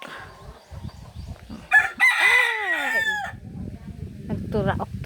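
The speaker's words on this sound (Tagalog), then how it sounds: "Nagturaok na ang manok." A rooster crows once nearby on a farm, a long rising and falling call, with brief talk and background chatter around it.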